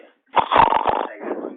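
A sleeping person snores once, a rough, rattling inhale lasting about a second that trails into a softer breathy tail, close and fairly loud in an otherwise quiet room.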